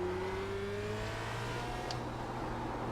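A race car engine at Interlagos downshifting, heard as a steady low drone with a falling engine tone and faint whine, heard from inside the car at moderate level.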